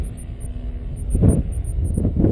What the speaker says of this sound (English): Oh, a bit of a gust there.